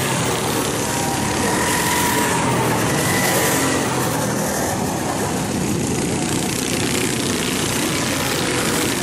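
Rental racing karts run on a track during a four-hour endurance race, their engines a steady, continuous drone that neither rises nor falls, heard from a moderate distance with no talk.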